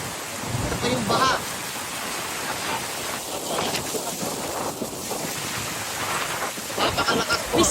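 Rain pours and floodwater rushes across a road in Mabini, Batangas, a dense hissing wash with wind buffeting the microphone, while voices talk over it.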